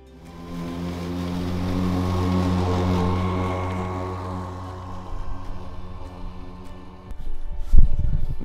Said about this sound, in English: I'm gonna go ahead and mow the thing out, bag it, weigh it